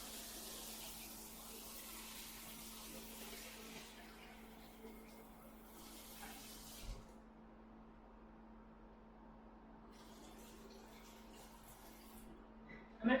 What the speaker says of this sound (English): Just rinse the spoon here